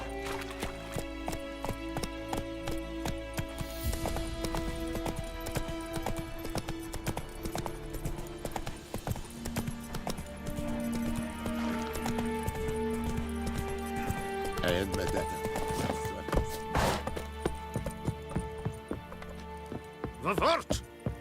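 The horse Roach galloping in The Witcher 3: Wild Hunt, a steady clip-clop of hooves with rattling tack under game music, with a voice speaking briefly.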